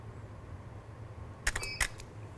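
Camera shutter release during splash photography with a strawberry, two quick mechanical clicks in close succession over a quiet background hum.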